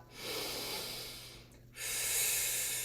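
Slow, deep breathing during a mid-back stretch in a gait and balance exercise class: a long steady airy inhale, a brief pause, then a stronger rushing breath, close and alone without talk.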